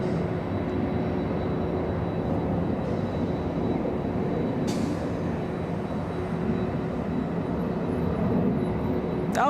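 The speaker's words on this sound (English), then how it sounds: "All right, we have WestJet now lining up." A WestJet airliner lines up for takeoff at Los Angeles International Airport, its engines a steady broadband roar that holds at moderate distance for several seconds with no talk.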